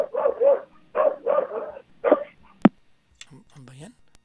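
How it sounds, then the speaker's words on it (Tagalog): A dog barks several times in quick succession, then gives a few whimpers and yips. A voice speaks nearby. "Ano ba yan? Yung aso."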